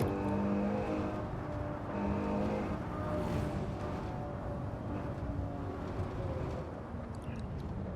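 A Ferrari 812 Superfast pulls down a track's back straight, its engine a steady, muffled drone heard from inside the cabin, rising gently under easy throttle.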